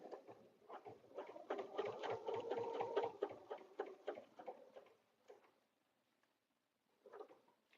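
A sewing machine stitches a quilted table runner, a rapid close run of needle ticks for about four seconds, then quiet, with a couple of short bursts of stitching afterward.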